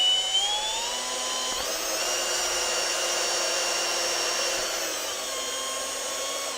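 A power drill whines continuously as it bores into material, its pitch dipping and rising a few times under load.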